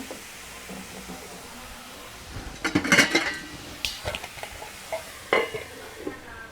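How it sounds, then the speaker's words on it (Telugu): Metal lid set onto a cooking pot of ridge gourd, a cluster of clanks and rattles in the middle followed by a few lighter knocks, close and distinct over a faint background hiss. "మూత పెట్టేద్దాం."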